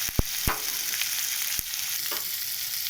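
Tomatoes fry in a pan with a steady, moderately loud sizzle and a few sharp clicks of stirring.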